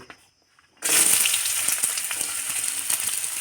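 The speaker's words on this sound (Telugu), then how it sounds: "ఆ తర్వాత వేడెక్కిన నూనెలో ఉల్లిగడ్డలు వేసుకోవాలి" After a brief near-silence, chopped onions hit hot oil with a sudden loud sizzle that holds steady and close, with faint crackles running through it, for egg fried rice.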